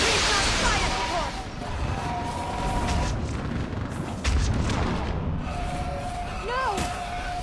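Heavy artillery fire support explosions in the video game Mass Effect 3, booming blasts and rumbling impacts amid combat noise, with voices shouting and talking over the barrage.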